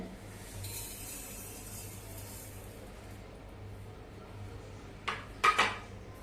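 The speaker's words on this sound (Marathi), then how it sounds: "आपण भांड्यामध्ये सगळा भाजून घेतलेला मसाला घेऊया" Dry roasted spices and split mustard seeds tumble and clatter into a metal container for pickle masala, a brief cluster of clinks near the end after a quiet stretch of low background hum.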